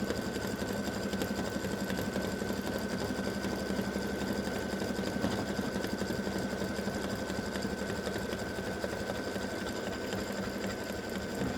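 An embroidery sewing machine stitches fabric with a triple stitch, producing a continuous fast needle-driven whirring hum that stays steady and close for over ten seconds with no talking.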